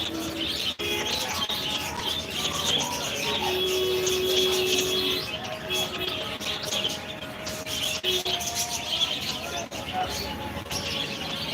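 Soft pigeon cooing and scattered chirps at a pigeon house in Sreemangal, under a steady rustling background, with faint voices nearby, the birds close and repeating at irregular intervals.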